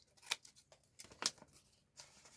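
Scissors snip the corners of a folded paper envelope in a few sharp, quiet cuts, heard close up with no talking.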